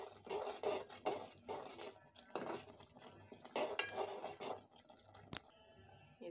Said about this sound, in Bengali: এরপর আমি এটাকে খুব ভালোভাবে নেড়ে নিব।